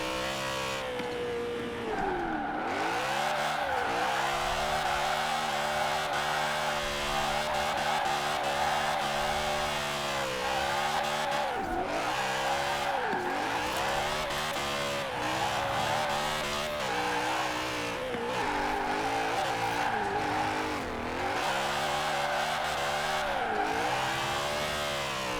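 A BMW Z4 drift build in Forza Horizon 4 drives continuously, its engine revving up and down through repeated gear changes. Tires squeal at times, and the engine stays loud and close with no talking.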